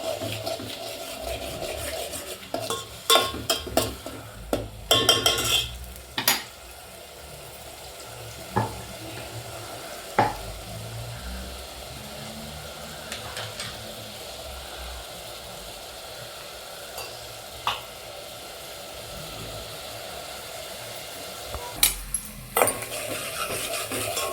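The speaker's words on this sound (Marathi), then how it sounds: "आता मी फ्राय करून घेणार आहे" Crab pieces frying in a pan for a spicy crab curry, a soft continuous sizzle with scattered stirring knocks and scrapes at irregular intervals, moderately quiet throughout.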